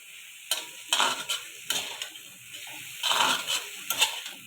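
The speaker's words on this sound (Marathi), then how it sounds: "इथे छान परतून घेतलं." White okra (jawari bhendi) is sautéed in a pan: short scraping bursts of stirring and spatula movement rise over a soft, constant sizzle, with uneven pauses between strokes.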